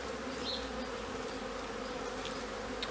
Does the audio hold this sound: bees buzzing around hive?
yes